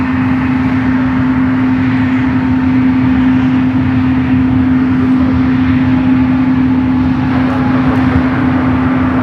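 An airliner taking off from San Francisco airport gives a steady, loud engine roar with a strong sustained hum, holding even throughout without any speech.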